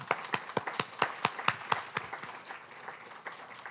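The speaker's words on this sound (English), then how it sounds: "One more round of applause for Dionne Irving." Audience at a distinguished writer's reading applauding author Dionne Irving, with sharp, distinct claps in a steady rhythm standing out over a softer crowd of clapping that thins out toward the end.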